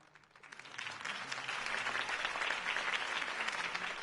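Audience applause after a Harvey Dent campaign speech, building from a few claps to a steady, dense wave of many hands that holds loud and close to the end.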